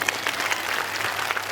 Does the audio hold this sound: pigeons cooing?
no